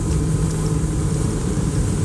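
The outboard engine of an ALUMA Storm 477 aluminum boat drones steadily at cruising speed of about 4,500 RPM, a loud continuous low hum with rushing wind and water, and no talking.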